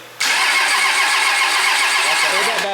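A Cummins diesel engine in a show truck fires up for the first time, catching abruptly after a brief quiet moment and settling into a loud, rough, steady idle close by.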